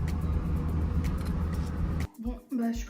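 A car arriving, a loud engine drone and tyre rumble close by that cuts off abruptly, followed by brief voices talking.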